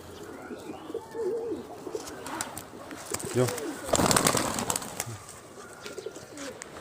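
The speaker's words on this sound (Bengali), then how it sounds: "নতুন প্রাণ ফিরে পেল ওই যে সে ডাকাটাকে শুরু করে দিছে" A domestic pigeon coos in a short rhythmic burst midway, close and moderately loud, with other bird chirps and outdoor background noise around it; no one speaks.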